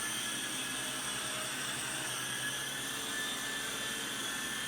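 A Syma S39 Raptor RC helicopter flies indoors, its rotors and motor making a steady, loud whine with a constant high hum that holds unbroken throughout.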